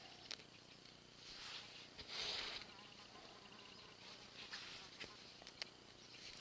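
A fly buzzes faintly around a cottage on a humid morning, a thin intermittent whine that swells briefly and fades against a quiet background.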